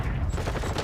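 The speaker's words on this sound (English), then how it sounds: "Still bullets flying in from Boston." Dense gunfire from an esports Call of Duty League match, bullets flying in a continuous rattling fusillade that fills the whole moment at steady loudness with no voices.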